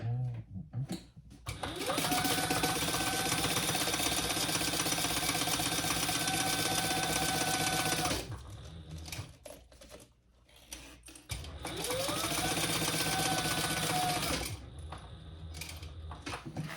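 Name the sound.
sewing machine topstitching a sling bag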